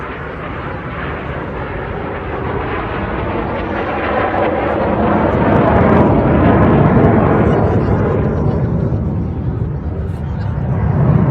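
RAF Red Arrows jets perform a display at the Blackpool Airshow 2025, a loud, continuous broadband roar that swells and fades slightly as the aircraft pass overhead.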